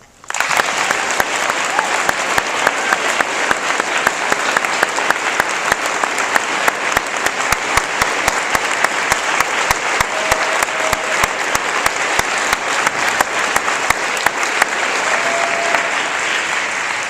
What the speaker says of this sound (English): please join me in this round of applause